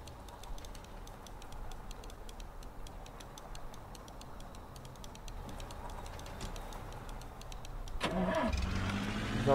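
An overheated Zhiguli car's engine starts with a sudden rising mechanical roar near the end, after a long stretch of steady low rumble with faint repetitive ticking.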